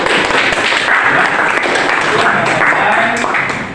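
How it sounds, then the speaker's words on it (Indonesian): Students clapping in a classroom, a brief loud round of hand claps mixed with a voice speaking over it and a few sharper individual slaps. "tepuk tangan lagi"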